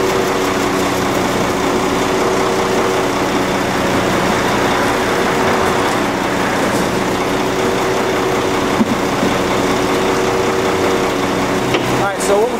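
A concrete mixer truck's drum spinning: a steady mechanical engine drone with a rotating hum runs continuously, loud and close, with no speech over it.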